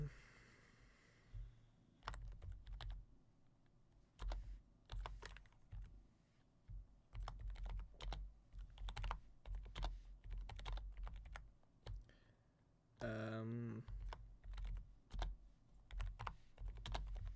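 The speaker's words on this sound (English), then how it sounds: "It's good that you like my keyboard sounds, Loafiverse." Computer keyboard typing clicks along steadily, fairly close, in quick irregular runs with brief pauses, and a louder burst of key presses partway through.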